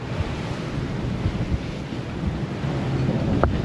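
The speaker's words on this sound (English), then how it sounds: "It's 23 knots apparent wind, and it's still bashing." A sailboat bashes through waves in 23 knots of apparent wind: a constant roar of wind and rushing water, with a brief splash of spray near the end and no talking.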